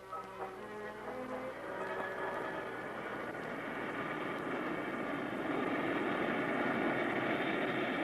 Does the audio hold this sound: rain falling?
no